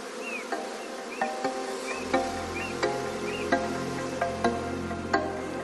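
A swarm of honeybees on a Victorian-style farm hums in a steady, dense buzz, with faint repeated ticks and chirps scattered over it, moderately quiet and without voices.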